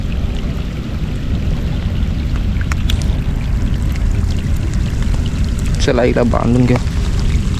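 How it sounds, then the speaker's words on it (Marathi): Sudden heavy rain with big drops pours down over a coastal mudflat during a mud crab hunt, a loud, dense, steady roar throughout, with someone speaking briefly near the end. "पाण्याचा थेंब बघा मित्रांनो किती मोठा पाण्याचा थेंब पडतोय"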